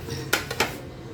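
Fish drops into a pot of soup with moringa and sweet potato leaves, giving two quick clinking splashes close together, short and fairly loud against a quiet kitchen background.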